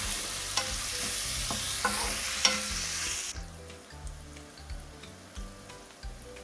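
Five whole garam masala spices, onion and salt frying in a pan, with a bright, steady sizzle for the first half that drops lower and softer, while a spoon stirs with repeated scraping taps throughout. No one speaks.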